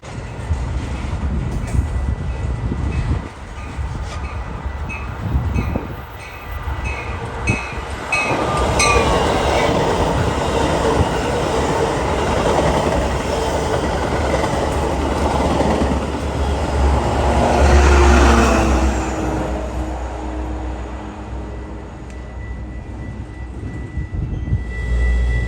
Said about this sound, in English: a Metra train roared through with 502 at the end